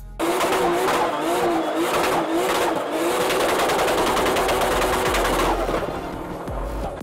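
Drift cars at full throttle on a race circuit during a qualifying session, engines roaring loud and continuous with rapid rattling bursts and tyre noise, the sound holding strong before easing slightly near the end.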